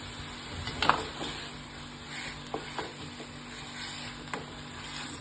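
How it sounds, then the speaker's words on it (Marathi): Chopped apple sautéing in a pan over low gas, a soft, quiet sizzle with occasional stirring scrapes and small clicks, no voices. "आता ह्याला आपण चांगलं थोडंसं परतून घेऊया बारीक गॅसवर"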